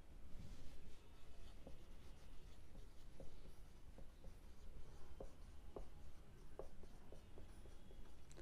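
Chalk writes on a board in a classroom, a steady scratchy rubbing with short taps and strokes, close but faint under a constant hiss.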